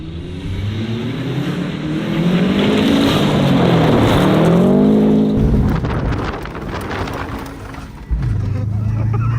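A saw-blade-wheeled Corvette revs hard out on a frozen lake, its engine note climbing and sweeping through loud, sustained pulls, then dropping to a lower rumble before a sharp burst near the end.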